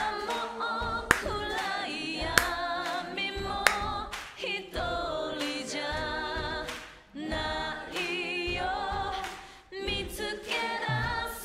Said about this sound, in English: And those are actually clapping.